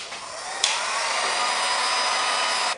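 A heat gun warms bonded fiberglass panels before they are pried apart, giving a loud, steady, close airy roar like a hair dryer that holds evenly for a few seconds and then cuts off.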